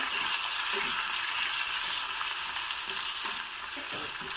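Green peas fry in oil in a pan, a constant bright sizzle with occasional stirring scrapes, close and continuous, with no one speaking.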